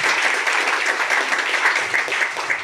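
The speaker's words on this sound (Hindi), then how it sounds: "इसके लिए जोरदार ताली होनी चाहिए" An audience at a training program in Bharuch, Gujarat, bursts into steady, dense applause, many hands clapping together in a continuous even wash with no talk over it.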